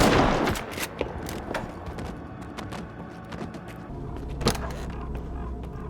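Gunfire in a STALKER 2: Heart of Chornobyl cutscene, dense bursts of rapid shots over a continuous rumble, loud and close, with mechanical clatter and no pauses.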